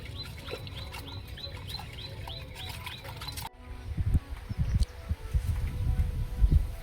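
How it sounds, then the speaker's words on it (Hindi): A small bird chirps in short, repeated tweets at a steady pace for a few seconds. A sudden cut follows to louder, close rustling and scattered thumps as it drinks water at a new hut. "पानी पीती हुई चिड़िया"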